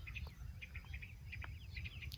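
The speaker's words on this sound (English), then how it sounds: "and the birds are out." Birds chirp and call in open rural countryside on a clear, still morning, scattered short tweets of varying distance over a low steady rumble, faint overall and with no voices.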